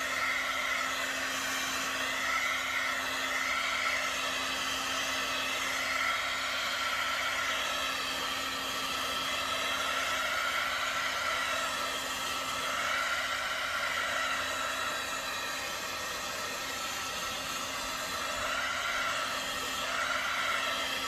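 A plugged-in hair dryer blows on paper cutouts. Its steady, loud whooshing hum runs unbroken throughout with no talk.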